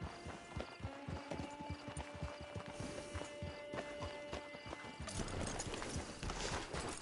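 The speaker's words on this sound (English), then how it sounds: "Get your horse." Horse hooves clip-clop on the ground in a PS4 video game, a fast, steady stream of close hoofbeats over a humming background. The clopping drops away near the end into a louder, broader wash.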